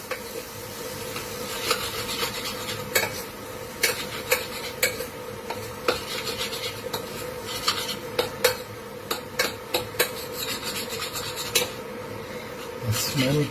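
Cheese and chilli noodles are stirred and scraped in a pan, with a steady run of rubbing, scraping clicks and utensil taps over a faint sizzle, close and moderately loud.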